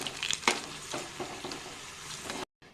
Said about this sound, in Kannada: ಸ್ವಲ್ಪ ಫ್ರೈ ಆಗ್ತಾ ಬಂತು.